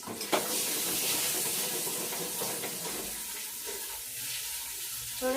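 Vegetable rolls frying in hot oil, a steady close sizzling hiss that fades slightly toward the end, with no talk.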